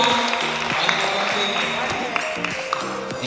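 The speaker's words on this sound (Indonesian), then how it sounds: "Sudah tepuk tangan dulu untuk Iqbal." Students at a junior high school office tour in Bengkulu applaud for a boy named Iqbal, steady clapping from a room full of people with voices mixed in throughout.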